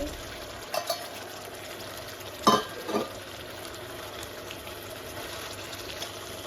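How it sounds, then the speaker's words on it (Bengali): Fish pieces are stirred and fried in a pan of spiced masala, with a faint steady sizzle broken by a few short scraping and clattering stirs. "এখন মাছগুলো করে দিয়ে নেব, এটাকে কষিয়ে নেব হালকা করে"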